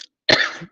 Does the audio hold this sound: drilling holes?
no